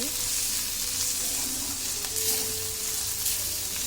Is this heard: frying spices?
yes